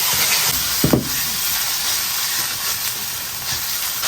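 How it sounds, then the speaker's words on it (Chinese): Minced meat stir-frying in plenty of hot oil in a wok, a loud steady hiss and sizzle with a brief spatula clatter near the start. "锅中多加油，下入肉末给它煸一下"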